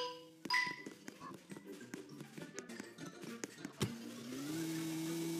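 Car in the Roblox game Work at a Pizza Place, starting up after a series of small clicks and taps, then settling into a low, steady engine hum that holds to the end.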